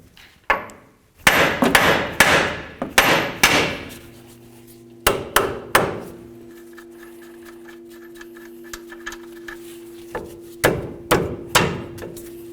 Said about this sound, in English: Carefully bonk on the knuckle, but be careful not to damage the tie rod.